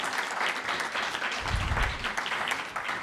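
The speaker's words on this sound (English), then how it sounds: "Elders, please, can I have applause?" An audience at a social justice conference plenary session in Cleveland bursts into steady, dense applause that carries on loudly for the whole stretch.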